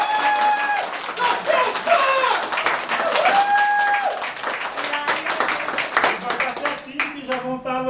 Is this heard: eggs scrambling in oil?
no